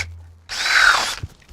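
A power drill fitted with a 1.5 inch bit bores into a pineapple to core it, giving a single loud, close whirring burst of about three quarters of a second that stops abruptly, with a soft thump afterward.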